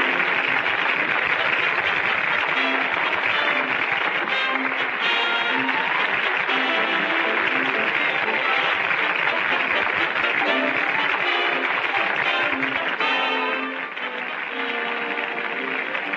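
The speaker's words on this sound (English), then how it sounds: "Listen to that applause," Sustained theatre audience applause after a magic trick, a dense wash of clapping that continues without pause and thins slightly near the end.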